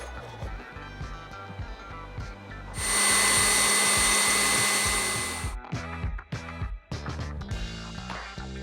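A stand or hand mixer beats butter, sugar, egg and vanilla in a bowl for gluten-free snickerdoodle dough, one loud steady whir lasting a few seconds between quieter kitchen clatter and handling noises.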